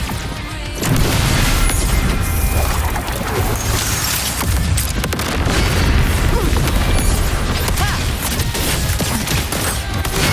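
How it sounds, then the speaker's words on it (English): Mortar blasts in the video game Wuthering Waves, a dense, continuous barrage of booming explosions and crashes rolling on loudly for about ten seconds over a busy battle mix. "Another mortar thrown at us."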